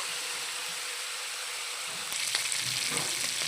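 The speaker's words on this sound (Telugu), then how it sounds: "ఈ చికెన్ అయితే మనం కొంచెం వెడల్పుగా ఉండే బాండల్లోనే ఫ్రై చేసుకుంటే మనకి అంటుకోకుండా చక్కగా ఫ్రై కూడా చక్కగా అయిపోద్ది" Chicken fries in a wide pan with a steady, close sizzle, and stirring scrapes and louder spattering join about halfway through.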